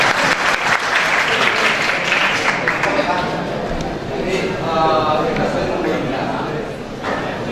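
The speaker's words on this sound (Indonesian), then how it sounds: "kita tepuk tangan" Audience applause at a national seminar in Bali, steady dense clapping across the whole stretch with voices mixed in and faint crowd noise underneath.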